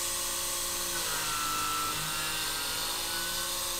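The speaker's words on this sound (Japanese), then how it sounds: "今から削るのがアップカットでの 3mm です" A CNC milling machine upcut cutting 3 mm deep runs steadily, giving a continuous high whine with a low hum and a slight dip in pitch partway through.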